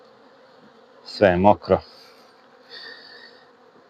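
Honey bees buzz around an open hive during a colony inspection, a faint steady drone heard beneath a man's brief spoken remark.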